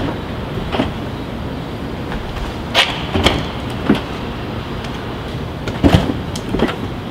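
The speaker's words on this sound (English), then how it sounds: "Okay, step one, open the doors." Doors of a Tesla Model 3 being opened: a few soft, distinct latch clicks and thumps spaced over several seconds, close by against a steady low background hum.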